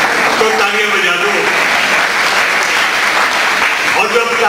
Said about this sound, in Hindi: तो तालियां बजा दो,